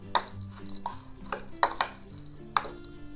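Papad, onion and spices tossed together in a bowl, giving a series of clinks and scrapes of a utensil against the dish at an uneven pace, fairly close and moderately loud, with no talk.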